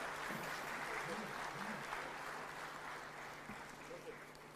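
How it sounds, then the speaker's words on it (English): Faint, continuous applause from a crowd at an African presidents' gathering, steady and distant in tone, with a few brief voices murmuring underneath. "a bigger round of applause to our distinguished presidents"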